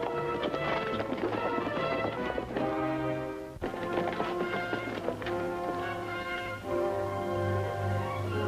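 Horse hooves clip-clop in a steady walking rhythm, close and clear, with faint music and sounds in the background.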